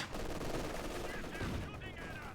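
Dense, rapid gunfire from a Company of Heroes 2 battle pours into a German Panzer tank, a continuous rattling barrage of bursts with faint speech mixed in underneath.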